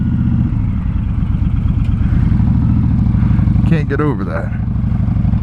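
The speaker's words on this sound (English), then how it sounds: "This bike just starts so easy." A Honda VTX 1300 motorcycle engine idles steadily and loudly up close, its low rumble continuous throughout, with someone talking over it.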